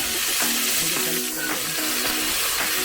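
Peppers sizzle in a hot pan during plant-based meal prep, a close, loud, steady frying hiss with faint bubbling and clattering underneath.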